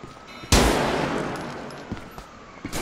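A single loud, close gunshot from a modded GTA 4 army battle cracks sharply and leaves a long, slowly fading echoing tail, with faint softer thumps near the end.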